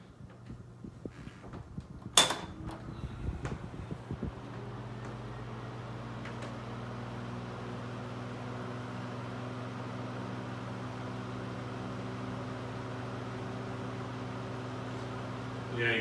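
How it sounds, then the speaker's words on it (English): A Mikado Cool Aire Super Deluxe 12-inch box fan with a worn braking system, running on low speed and giving a quiet, steady electric hum with a soft whir. A few clicks and a thump come at first as it is switched on. "Low speed on the fan's pretty quiet."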